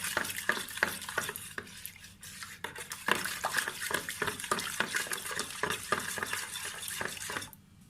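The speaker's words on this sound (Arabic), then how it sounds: "هدوب بس الخميره في الميه الدافيه مع السكر، ادوبها كده كويس." Yeast and sugar stirred into warm water, a spoon clinking in steady, rapid strokes against the bowl, loud and close with no talking, stopping just before the end.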